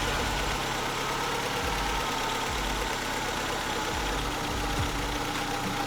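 Audi A3 8L engine idling steadily with the ignition on, a close, even mechanical hum with faint periodic knocks and vibration underneath.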